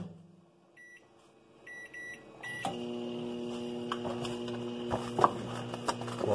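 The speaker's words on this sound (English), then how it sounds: "In the microwave for 3 minutes." A microwave oven hums steadily after a few electronic beeps from its keypad, with a couple of faint clicks and taps over the running drone.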